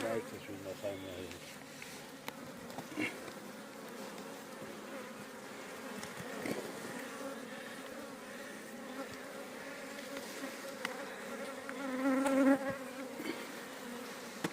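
Honeybees buzz continuously at close range in an opened hive, a dense hum that rises and swells near the end, with occasional soft knocks.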